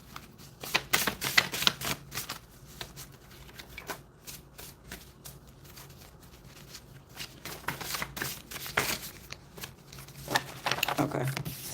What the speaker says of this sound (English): I'm just trying to shuffle a little bit here